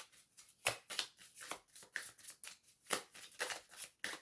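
A deck of cards is cut and handled during a tarot-style reading, giving a string of close, crisp papery flicks and snaps in an irregular rhythm, with no talk.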